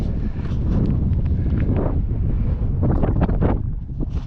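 Strong wind on a mountain ridge roars and buffets the microphone in a constant loud rush, with no voices.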